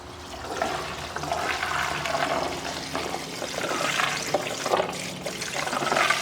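Fuel pours slowly from a container into the fuel system of a V8-swapped RX7, a steady liquid gurgle and splash running continuously and fairly close, with no talk.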